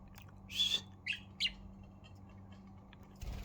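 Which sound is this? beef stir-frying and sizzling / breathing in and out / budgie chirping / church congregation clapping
budgie chirping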